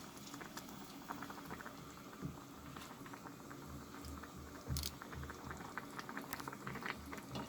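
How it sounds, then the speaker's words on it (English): Chicken macaroni soup with spring onion greens bubbling at a steady boil in a covered pot, a continuous soft gurgling and popping patter up close with no voices. "and again cover the lid and let it boil."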